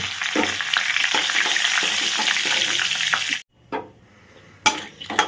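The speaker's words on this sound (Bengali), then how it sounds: "আমার এলাচ দারচিনি তেজপাতা সুন্দর করে ভাজা হয়ে গেছে" Crushed cardamom, cinnamon and a bay leaf fry in hot oil as a tempering, giving a loud, steady close-up sizzle that cuts off abruptly partway, then returns in short bursts.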